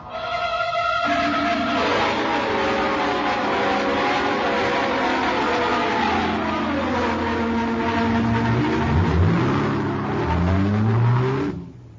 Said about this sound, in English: The car can't make too much headway.